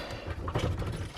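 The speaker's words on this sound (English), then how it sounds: "First, second, third, fourth, fifth, and reverse." A Ford Ka's manual gear stick is worked through its gates, giving a brief close-up clatter of mechanical clunks and rattling knocks with no voices.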